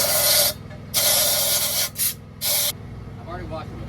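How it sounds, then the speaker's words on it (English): A small air compressor blows out a truck engine's intake after holes were drilled, giving three loud, harsh bursts of hissing air separated by short pauses, then quiet shop ambience. "And since I had to drill the holes, I got to blow out the intake."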